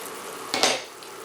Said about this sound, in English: So I've got my water here boiling along.